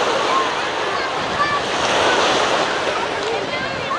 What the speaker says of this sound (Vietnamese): cả nhà ra đây tắm biển rất là vui